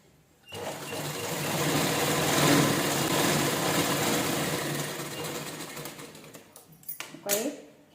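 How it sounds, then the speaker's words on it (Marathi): A sewing machine stitches fabric in one continuous whirring, rapid run lasting several seconds, then slows and stops with a few clicks and handling sounds at the end. "फक्त जुळवताना व्यवस्थित असं धरून स्टिच करून घ्यायचं व्यवस्थित एकसारखं"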